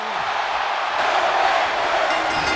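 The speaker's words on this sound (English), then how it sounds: "The crowd is screaming his name." A wrestling arena crowd in WWE 2K23 screaming and cheering, a loud continuous roar that swells slightly through the middle and holds steady to the end.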